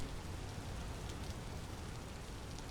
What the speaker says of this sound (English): Why is it that when I want to go exploring, it's always pouring down rain?